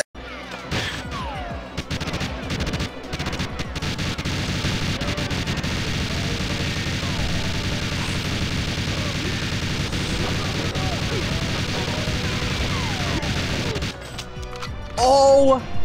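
Rapid, continuous RCP-90 automatic gunfire in a video game firefight, loud and dense for most of the stretch with layered bursts and impacts. It cuts off near the end, where a voice briefly speaks.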